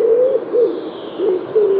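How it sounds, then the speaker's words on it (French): Parisian pigeon cooing in a series of soft, low, rolling coos that repeat in a steady rhythm, close and fairly loud, with no other sounds around it. "aujourd'hui vous allez donner la parole à un pigeon parisien"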